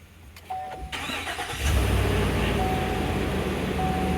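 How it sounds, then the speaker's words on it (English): A 2020 Chevy Silverado pickup, recently fixed after its starter only clicked, cranks briefly and then fires up, settling into a loud, steady close idle. "Now let's go see if this truck actually starts."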